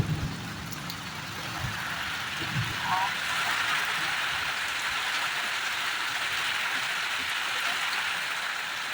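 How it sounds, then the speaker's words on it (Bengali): Steady, dense rain pours down throughout, a continuous hiss of drops hitting surfaces with a few heavier splashes early on. "দেখো পুরো বৃষ্টি শুরু হয়ে গেছে"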